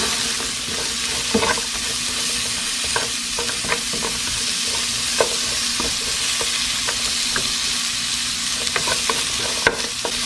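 Onions sizzle and fry steadily in a pan, with occasional stirring scrapes and small pops over a constant loud hiss, no voices.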